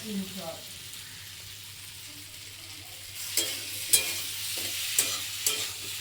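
A prawn, pumpkin and potato curry is stirred and fried in a pan, a soft continuous sizzle broken later by several sharp scraping stirs, with a faint voice briefly heard early on.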